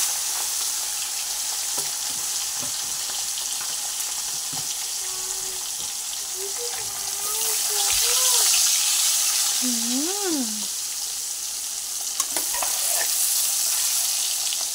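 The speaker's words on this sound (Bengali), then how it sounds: "তেল তো গরম হয়ে গেছে। আমি আগে এই যে ফলই মাছটা ভাজি।" Foli fish (featherback) sizzles steadily in hot oil in a kadai wok, a loud, constant frying hiss that swells briefly in the middle, with a voice talking over it at times.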